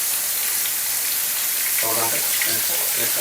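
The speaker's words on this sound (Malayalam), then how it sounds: "വെളിച്ചെണ്ണയിൽ പൊരിക്കുകയാണ് കേട്ടോ" Stuffed mussels frying in coconut oil give a loud, dense, unbroken sizzle close by, with a voice briefly over it in the second half.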